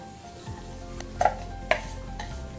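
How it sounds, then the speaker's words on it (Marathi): Ground peanut chutney with chillies and garlic dropped into hot oil, a soft steady sizzle close by with a few sharp clinks of a pan and spoon. "तेल तापलं की लगेच हे गरम करायला टाकायचे चटणी वाटलेली।"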